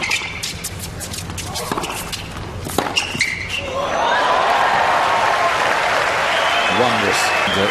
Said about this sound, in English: The polite Lovely applause